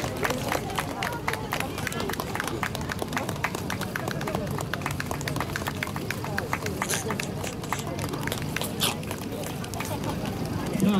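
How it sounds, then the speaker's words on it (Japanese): Audience applause at a Welsh Terrier breed show, a steady dense clapping that runs throughout under a busy hall of crowd murmur, with an announcer's voice over it. "さあ、どうぞ拍手を持ってお願いしましょう。"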